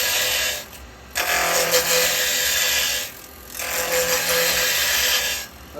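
Wood being turned on a lathe with a carbide cutting tool, a steady broadband scraping whir in two long cuts separated by brief pauses, close and loud with no talking.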